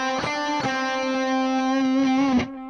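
Four-note guitar lick picked on a single string, heard as four evenly spaced attacks over a sustained, slightly distorted tone, played alone for under three seconds.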